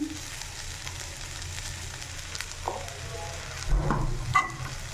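Drumstick leaves frying dry in a pan with peanut powder being added, a steady soft sizzle with light stirring scrapes and a brief louder rustle near the end; no talk.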